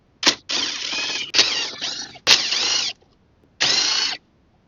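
Ratchet wrench loosening 10mm bolts under the radio of a Toyota 4Runner, several quick close clicking bursts separated by short pauses.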